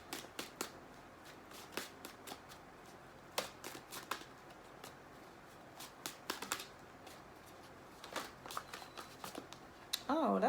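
Tarot cards shuffled by hand at close range, a loose run of crisp riffling snaps and flutters with short pauses between bursts, faint and quiet throughout.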